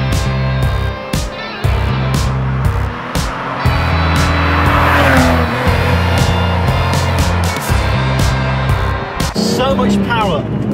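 A Ferrari Testarossa's engine drones steadily while driving on wet country roads, loud and close from inside the car, with a driver talking over it throughout.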